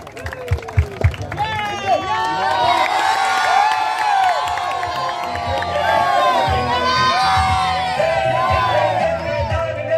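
At a prize ceremony for the winning team of a 40+ masters tournament in Pimpalner, a crowd cheers and shouts loudly and continuously, with excited voices and running feet mixed into the dense roar.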